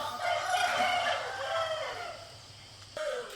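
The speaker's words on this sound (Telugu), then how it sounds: "ఇవన్నీ కోడిపుంజులు అనమాట ఇక్కడ నుంచి ఆ లాస్ట్ వరకు మొత్తం కోడిపుంజులు" On a poultry farm, a rooster gives one drawn-out crow at moderate distance, fading near the end before a brief knock.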